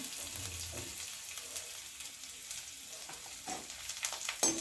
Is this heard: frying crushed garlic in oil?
yes